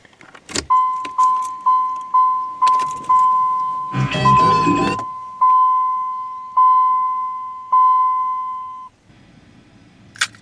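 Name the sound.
car warning chime in cold weather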